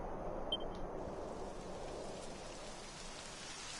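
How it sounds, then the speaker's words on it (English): Steady rain patters down throughout in the game Dragon Quest 11, a dense, even hiss at moderate level with no voices over it. "It would have to go and start raining, wouldn't it?"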